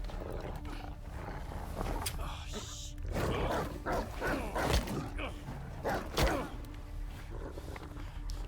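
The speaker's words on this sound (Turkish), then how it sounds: "köpek beni yiyor" A mutant dog attacks in S.T.A.L.K.E.R. 2, with snarling growls and barks rising and falling throughout, up close and loud, amid scuffling footsteps and game noise, while someone talks over it.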